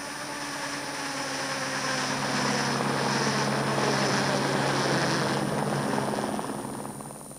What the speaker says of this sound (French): L'utilisation de l'hélicoptère est une technique certes plus coûteuse, mais qui permet surtout d'exécuter rapidement des travaux